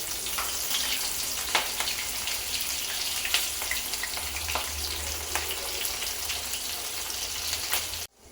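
Mirchi bajji, chili fritters in batter, frying in hot oil: a dense, steady crackling sizzle with scattered pops runs loud and close for the whole stretch, then cuts off abruptly near the end.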